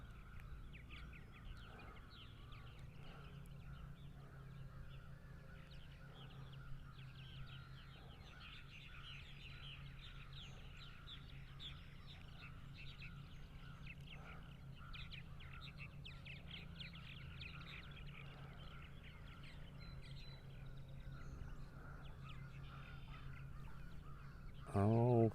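Purple martins calling around nesting housing on eastern Long Island, New York, a steady outdoor chorus of chirps and chatter throughout, fairly distant, over a low constant hum, with a brief louder rustle at the very end.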